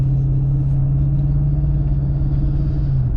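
A Lexus car drives steadily on the road in sport mode, its engine and tyres making a loud, constant low rumble with a steady hum throughout and no talking.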